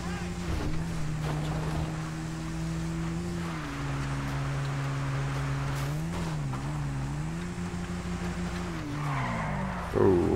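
A Truffade Adder, the Bugatti Veyron of GTA 5, nearly spins out, its engine whining and shifting pitch under a long tire skid, with brief louder squeals and wind noise near the end.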